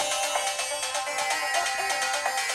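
A Yamaha Seqtrak plays a programmed jam pattern with everything brought back in: bright, busy electronic synth layers and rhythmic pulses loop continuously at steady volume, with no voice over it.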